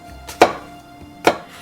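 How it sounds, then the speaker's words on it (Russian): Two crisp knife chops through apples into cubes on a cutting board, spaced about a second apart, close and distinct against a quiet background. "Яблоки нарезаю кубиками среднего размера."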